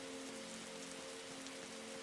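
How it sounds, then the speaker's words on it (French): Rain falling in the video game 99 Nights in the Forest, a soft, steady patter of drops with a faint low hum beneath, quiet and continuous with no thunder clearly standing out. "il pleut, il tonne, mince!"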